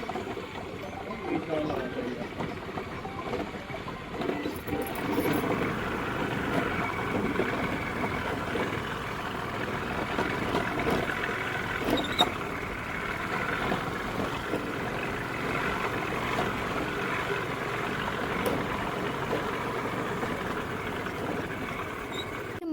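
A scooter rides along a forest road through the dense Nallamala forest, with a continuous rumble of engine and wind noise running the whole way while someone talks over it.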